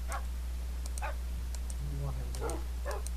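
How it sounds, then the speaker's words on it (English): Minecraft dogs give short barks and thin whimpers in a game, the yelps coming in quick scattered bursts over steady background hum and clicks. "Oh, a bunch of dogs."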